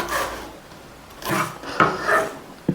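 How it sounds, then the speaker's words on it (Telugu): A knife cuts green chillies for vegetable manchurian, giving three short scraping, rasping bursts close by on a cutting board with brief pauses between them and no talking. "ఇప్పుడు మిర్చి కట్ చేసుకుందామండి."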